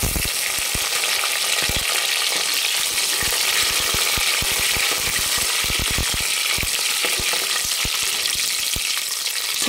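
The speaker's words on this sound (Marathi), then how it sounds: "तर या वेळेला आपल्याला लगेच याच्यामध्ये हिरव्या मिरच्या टाकायच्या आहेत." Four green chillies dropped into onions frying in hot oil for a mutton biryani give a loud, constant sizzle, close up, with rapid bursts of crackling and spatter throughout and no talking.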